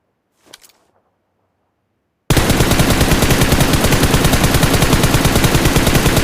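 Automatic gunfire in PUBG Mobile, a loud, rapid, sustained burst of evenly spaced shots that starts abruptly after a short quiet stretch with a brief click.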